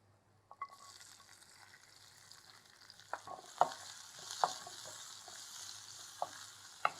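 Onions frying in ghee with crushed pepper for curry leaf soup, a quiet steady sizzle with occasional sharp clicks of a spoon against the pan, close up, no talking.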